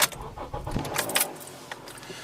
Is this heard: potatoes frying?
no